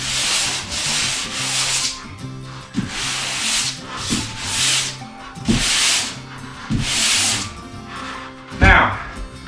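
Hand sanding of drywall joint compound to feather the edges smooth, a series of long rasping back-and-forth strokes in bursts of roughly a second, close and loud, with a voice talking between strokes.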